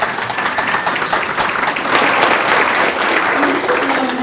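An audience applauds at an education awards celebration, dense steady clapping from a crowd that swells slightly midway and holds for several seconds.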